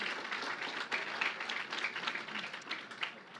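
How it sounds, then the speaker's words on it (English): An audience at the Plug and Play Tech Center Summer Summit 2019 applauds its startups with steady, dense clapping that stays loud and even throughout, with small swells. "One last round of applause for all of our startups in the second half"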